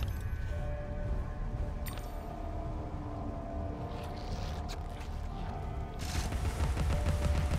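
Gunfire in the video game Alice: Madness Returns, dense rapid shots over a low rumbling game soundscape, swelling louder near the end with a burst of crackling reports.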